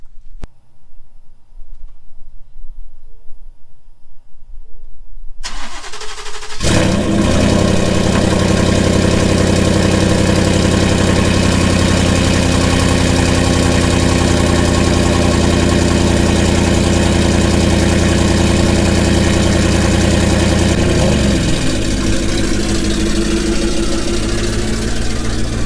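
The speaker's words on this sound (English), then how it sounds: "maybe I'll crank this thing up and I'll back it out here in the sun" A 2019 twin-turbo Ford F-150 engine cranks over after a quiet stretch, catches, and settles into a loud, steady idle close to the microphone, with a brief rev change near the end.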